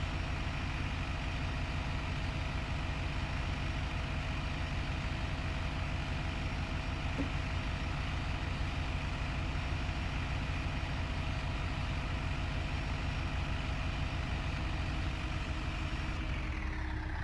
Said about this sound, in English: Surprisingly, this tractor handles the sower quite well.